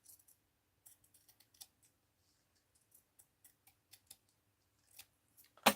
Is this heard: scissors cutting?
yes